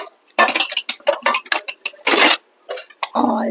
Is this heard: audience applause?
no